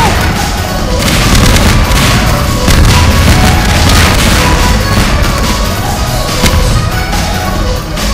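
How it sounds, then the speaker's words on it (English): Continuous loud booming and crashing from video game explosions in Garry's Mod, with overlapping blasts and rumbles rolling on without pause, close and dense. "What's with all the explosions?"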